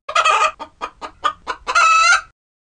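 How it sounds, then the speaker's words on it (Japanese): A chicken gives several short, choppy clucks in a rapid uneven rhythm, then breaks into a loud, drawn-out crow at the end, all close and clear with no talking. "これが鶏の鳴き声です。"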